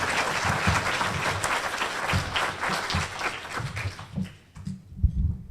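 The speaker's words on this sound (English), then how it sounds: "let's give another round of applause for Dr." An audience applauding at a Kiwanis community luncheon, a dense wash of many hands clapping that thins out and tapers into a few scattered claps near the end.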